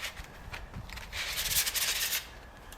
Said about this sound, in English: So I got to get some sandpaper here so I can sand them off a little bit.